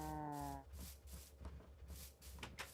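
Cows moo in the video game Minecraft, one drawn-out low moo at the start followed by soft shuffling and rubbing sounds of the herd milling about nearby.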